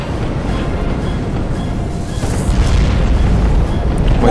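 A Titan warship opens fire in the space strategy game Sins of a Solar Empire, setting off a continuous roar of deep, rumbling explosions that grows heavier and louder partway through.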